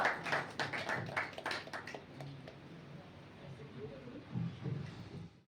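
At a youth retreat, an audience claps in steady rhythm along to singing. The beats are faint and distant, strongest at the start and then fading under low voices and music.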